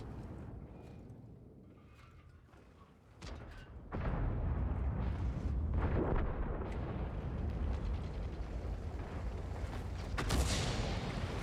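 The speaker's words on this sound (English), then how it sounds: "And artillery again." Artillery fire in a tank video game while playing the WZ113G FT: a dull boom lands, then heavy rumbling blasts and crackling explosions swell and stay loud to the end, no talk.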